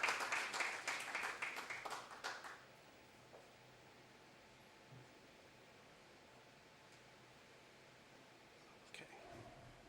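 An audience at the fifth annual IBAU conference claps in a brisk round of applause that fades out within a few seconds, leaving a quiet, hissy room with a faint stray sound near the end.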